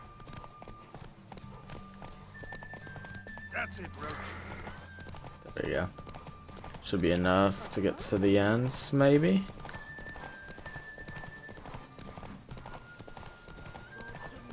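Roach, Geralt's horse in The Witcher 3, gallops in a derby race with rapid clip-clop hoofbeats and a whinny, under game music and someone talking over it.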